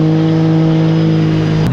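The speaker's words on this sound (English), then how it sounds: "It's a jet boat, but it sounds like a freaking plane." A mini jet boat engine revs hard and close on the Brazeau River, a loud steady droning roar with a strong sustained pitch that shifts abruptly near the end.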